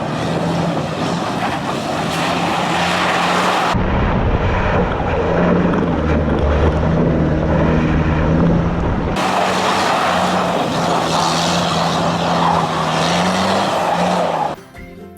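An Isuzu D-Max four-door, four-wheel-drive pickup drives on a test drive. Its engine note runs loud and close with steady road and wind noise, rising and shifting in pitch as it changes gear.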